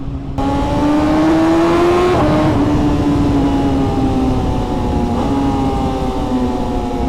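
A loud motorcycle engine drones close by, its pitch rising and dipping through gear changes with a steady roaring tone.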